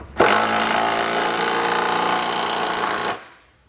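A power tool snugs down a bolt while a trailer hitch receiver is installed on a 2018 Subaru Outback wagon. It gives one loud, continuous whirring burst of about three seconds that starts abruptly and cuts off.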